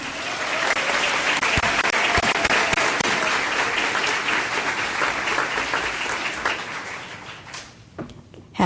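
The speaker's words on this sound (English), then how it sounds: "Can we give them a round of applause for" A round of applause at a board meeting, dense and sustained clapping from the room that holds steady, then thins out and fades near the end.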